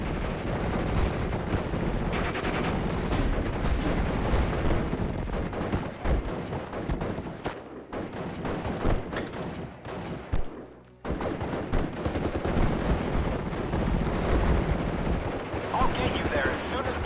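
Continuous heavy gunfire and machine-gun bursts in the World War II strategy game Steel Division: Normandy 44, loud and dense, with a short lull partway through before the barrage resumes. Battle noise and voices mix with the shooting.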